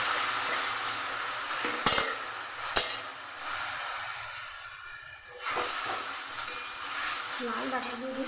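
Boiled red amaranth stems are stirred into a pan of fried garlic, with a steady hiss and sizzle, a couple of sharp utensil knocks against the pan, and a brief dip in the frying before it swells again.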